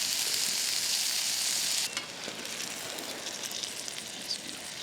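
Maple sausage patties frying in a pan at a turkey hunting camp, a steady close sizzle that drops in level after about two seconds and keeps crackling more softly.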